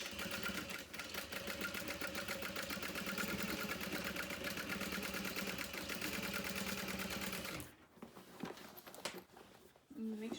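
A sewing machine runs steadily while backstitching bag fabric, a fast even needle patter close by that stops abruptly near the end, followed by quiet handling noises.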